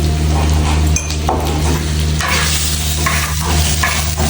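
Food stir-fried in a wok in a home kitchen, with steady close sizzling and frying crackle, intermittent stirring scrapes and light clinks of utensil against the pan throughout.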